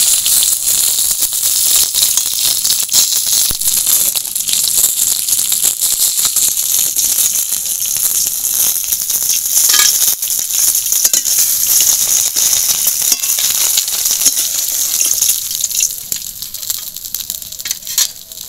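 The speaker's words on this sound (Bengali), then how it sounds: "মাছগুলো একটু ভালো করে লাল করেই ভাজবো" Pieces of pomfret fish sizzle and crackle in hot oil in a pan, a dense, continuous frying hiss with small pops, close and loud throughout.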